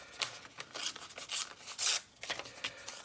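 Scissors snip through paper in a series of crisp, close cuts, irregularly spaced with brief pauses between.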